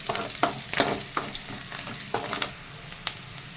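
Green chillies fry in a pan with a pinch of salt, giving a close, steady sizzle broken by a series of sharp stirring scrapes and clicks, with no talking.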